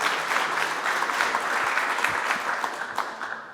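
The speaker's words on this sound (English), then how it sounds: "let's have another round of applause for Ara" A workshop audience gives a round of applause for the guest speaker at a ZBrush sculpting event, a steady, moderately loud wash of many hands clapping that fades slightly toward the end.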